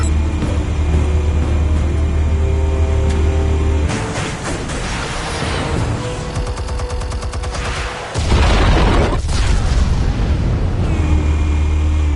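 Explosives detonating in Batman: The Telltale Series, loud rumbling blasts and crackling debris over a low droning score, with a sudden heavy burst late in the sequence.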